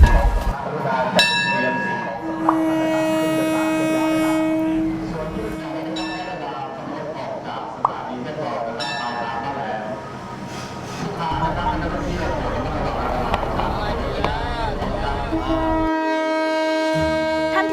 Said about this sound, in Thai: ที่ได้ยินเสียงสัญญาณเตือนนะคะ